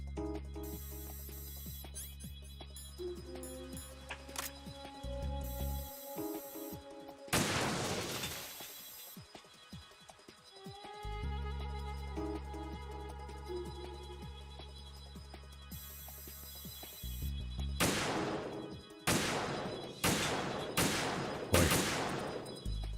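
Gunfire in Metal Gear Solid 2, with a couple of sharp shots midway and a closing run of loud, evenly spaced shots, set against sustained droning game music with no talking.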